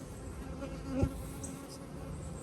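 Honey bees drone in a soft, steady buzz close by at a Flow Hive, with a brief louder buzz as one passes near.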